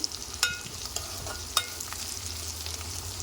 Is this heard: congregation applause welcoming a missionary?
no